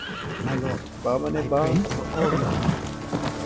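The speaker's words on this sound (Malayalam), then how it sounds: "ഇച്ചിരി ദൂരമുണ്ട്, കുതിരയെ വിളിക്കാം." In the video game Ghost of Tsushima, a summoned horse whinnies several times and its hooves clip-clop as it approaches. Someone talks over the sounds throughout.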